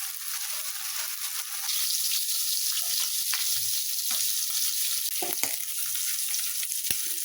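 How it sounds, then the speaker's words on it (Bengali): Fish frying in hot oil in a home kitchen pan, a steady loud sizzle that runs without a break, with faint stirring clinks now and then. "মাছ ভাজা হয়ে গেছে, এখন তুলে নিচ্ছি।"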